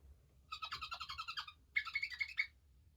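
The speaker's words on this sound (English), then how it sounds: "So let's find the mice that go squeak." A mouse sound button from a children's farm animal sound book plays two bursts of rapid, high squeaking, each about a second long, separated by a short pause, alone and fairly faint.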